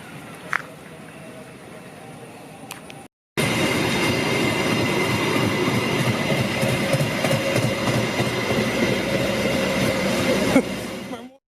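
A speeding train passes close by in Indonesia as a loud, sustained rumble with clattering wheels and metallic squeal, cutting in abruptly after a quiet stretch with a few faint clicks, then ending sharply.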